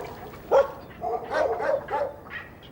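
Wild dogs at a garbage dump, where they share ground with baboons, bark and yip in a loose cluster of short calls, one sharp bark followed by a scattered, fainter chorus at moderate distance.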